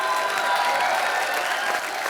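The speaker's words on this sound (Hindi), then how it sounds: "जोरदार तालियां।" A studio audience on a Hindi TV comedy show applauds loudly, a thick continuous roar of clapping with some crowd noise, steady throughout.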